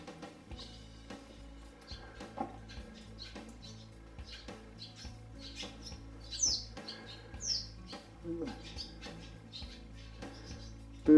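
Small birds chirp and tweet inside the entrance of a Nullarbor cave, scattered short calls of moderate loudness over a low hum, with occasional soft fluttering.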